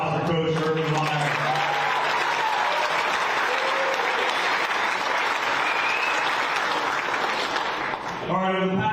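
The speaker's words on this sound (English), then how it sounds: "Let's give a big round of applause for Coach Urban Meyer." A big crowd at a VGA National Championship pairings party breaks into loud, sustained applause for Coach Urban Meyer, with a speaker's voice briefly heard at the start and again as the clapping ends.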